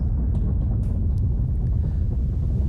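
Wind blows steadily in a low, rumbling rush with buffeting against the microphone, loud and continuous with no voices.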